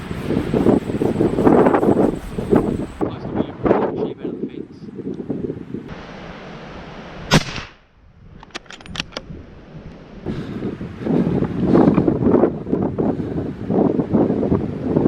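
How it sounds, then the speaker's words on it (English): Strong nor'wester wind buffeting the microphone outdoors on a hunting trip, loud rumbling gusts that ease in the middle and build again, with people talking over it. "It is blowing nor'wester."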